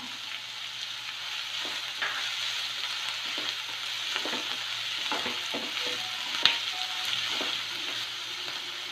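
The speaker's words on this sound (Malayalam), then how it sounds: "കുറച്ച് കറിവേപ്പില ഇട്ട് കൊടുക്കുന്നുണ്ട്. ഇതൊന്ന് വഴറ്റിയെടുക്കണം നമുക്ക്." Crushed garlic, ginger, green chilies and curry leaves sauté in a pan with a steady close sizzle and occasional stirring scrapes, plus one brief clack near the end, and no voices.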